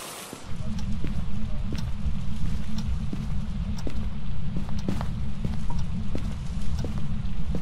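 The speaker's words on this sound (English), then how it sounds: "Dude, I keep hearing their footsteps" Footsteps in a ghost-hunting video game, a steady series of sharp, distinct steps in an unhurried rhythm over a loud, constant low hum, moderately close, with no talk over them.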